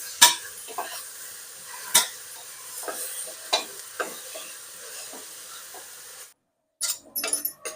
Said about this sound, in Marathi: त्यात दोडक्याचा कीस टाकून घ्यायचा दोडक्याचा पीस परतून घ्यायचा